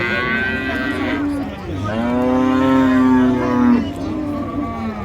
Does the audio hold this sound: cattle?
yes